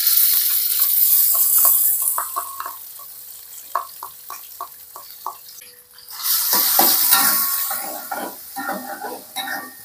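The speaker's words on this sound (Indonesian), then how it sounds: "Lanjut di sini saya mau menumis ya, teman-teman. Pertama-tama saya masukin tahunya dulu" Tofu sautéing in a pan gives a steady broadband sizzle, broken by clattering knocks and scrapes of stirring, with a louder burst of frying about two-thirds through.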